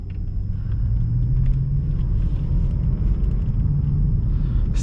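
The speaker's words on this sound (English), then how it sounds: "you can hear the V8. Definitely sounds fantastic" A 2014 BMW 650i Gran Coupe with 100k miles, its V8 engine rumbling steadily while driving, a deep continuous low drone with road noise heard from inside the cabin, no voices.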